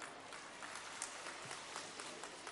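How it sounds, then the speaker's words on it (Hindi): Steady applause from an audience at a public government event in Chhindwara, with a dense, even wash of clapping sustained throughout at moderate volume and no speech over it. "प्रकाश जी के लिए भी ताली बजा दो"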